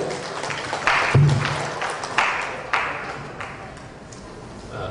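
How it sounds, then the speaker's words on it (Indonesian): Audience applause at an Indonesian entrepreneurship seminar, a few sharp claps and bursts of clapping in uneven waves that fade gradually, with sparse, thin hand claps near the close. "Tepuk tangan bagi Pak Karim."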